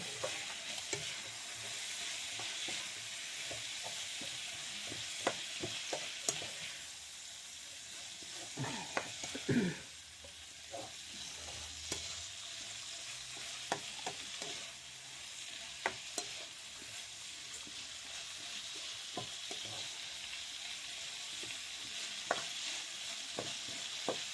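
Chicken curry with peppers, curry spices and coconut milk sizzles quietly in a pan while a spoon stirs and scrapes it. Intermittent knocks and scrapes stand out over a soft, steady frying hiss, close but fairly faint.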